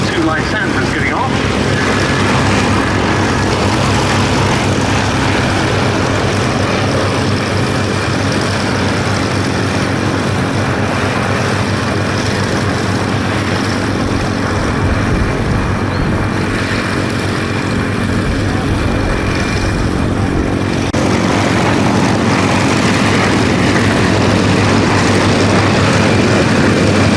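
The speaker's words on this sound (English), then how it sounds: "we've got the 2 Lysanders getting off" Two Westland Lysander aircraft take off at Duxford, their propeller engines droning loud and continuous for the whole stretch, with a commentator speaking over them.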